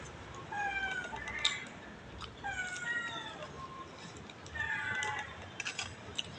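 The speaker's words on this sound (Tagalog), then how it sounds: "Dinig niyo ba yung mga alaga kong pusa?" Several pet cats meowing in a series of wavering, drawn-out cries close by, some overlapping, over a constant hiss of background noise.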